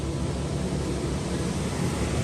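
A big fan runs steadily to cool a 1954 Ford F100's engine, giving a constant broadband whoosh of moving air with no breaks or speech.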